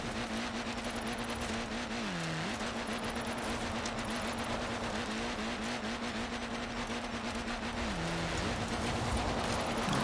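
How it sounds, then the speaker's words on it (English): A car engine drones steadily in Forza Horizon 4 while driving off-road on wet ground, with a sustained tone that dips twice as the revs drop and rise, under a constant rush of road and gravel noise. "Turbo is going crazy in this car."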